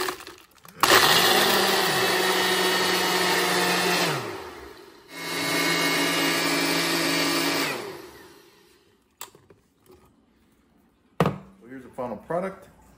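A countertop blender whirs loudly through a coffee smoothie in two long, steady runs of about three seconds each, separated by a brief pause. Afterward comes quiet clinking and a voice speaking briefly.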